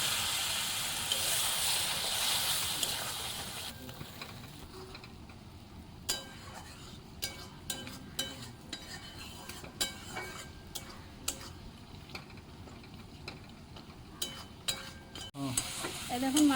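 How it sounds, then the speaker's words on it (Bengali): A fish head sizzles in spice masala with a hissing burst at first, then quieter frying punctuated by a regular series of light spoon taps and scrapes against the pan. "এই দেখুন মাছের মাথা মশলা ভালো করে কষে নিয়েছি"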